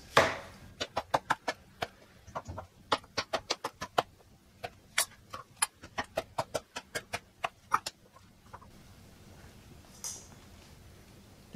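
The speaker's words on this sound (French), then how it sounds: "Alors, les courgettes, je préfère les couper assez épaisses." Knife chopping courgettes into thick slices on a board, a quick run of sharp, close knocks in an uneven rhythm, about two dozen cuts, then stopping.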